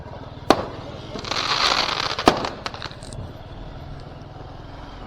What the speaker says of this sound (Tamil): அந்த பட்டாசு எங்கே வெடிக்குது அதை ட்ராக் பண்ணுங்க